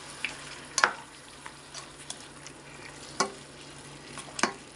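Chicken menudo with fresh milk and vinegar being stirred in a pan, a few sharp scrapes and clinks of the utensil at irregular intervals over a soft, steady sizzle.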